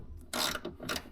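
Ratchet socket wrench working on a car engine being rebuilt, giving a short run of fast metallic clicks in two or three quick bursts, close and fairly loud.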